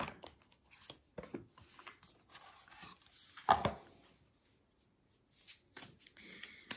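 Oracle cards being shuffled and drawn, soft papery riffles and flicks in short bursts, close and quiet, with a sharper slap midway and brief pauses between.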